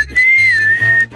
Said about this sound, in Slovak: To nepískam na teba.